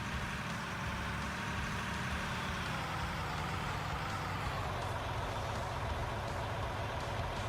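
Dump truck engine running at a gold-mining wash plant, a steady low rumble and drone holding evenly throughout, close and continuous with machinery noise layered over it and no talk.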